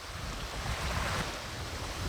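Steady broadband surf wash on a beach where baby sea turtles head to sea, waves rolling and breaking continuously with a low rumble, no voices.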